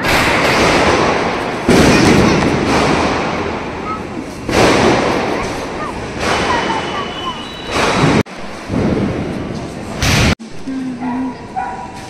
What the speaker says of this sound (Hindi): अभी हम लोग सोसाइटी में नीचे आ गए हैं बम पटाखे चलाने के लिए, अद्विक के लिए